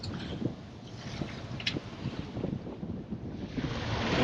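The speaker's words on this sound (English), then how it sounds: "Running through some pretty significant swell" A sailboat, an Oyster 56, motor-sails through a heavy ocean swell off Mexico, with a constant rush of wind, water and waves around the hull and steady wind buffeting on the microphone, and nobody speaking.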